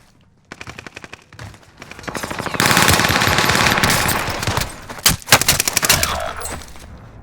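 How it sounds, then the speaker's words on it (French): A shooter video game fills the clip with sustained automatic gunfire, starting as rapid bursts and building into a loud, dense fusillade, then falling to a few sharp separate shots near the end. "Vraiment, je suis arrivé, je l'ai fusillé."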